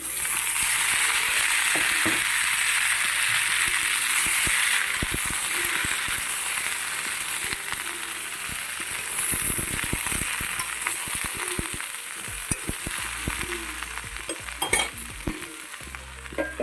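Cut flat beans sizzle loudly in a hot pan while a utensil scrapes and clatters against it now and then, the frying hiss running steadily throughout.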